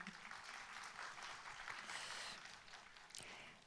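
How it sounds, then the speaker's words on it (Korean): Audience applause at a Korean expo ceremony, honoring the chairperson after remarks: a steady wash of many hands clapping, moderately distant and quiet, continuing evenly without pause. "의장님께도 여러분 다시 한번 박수 보내주십시오"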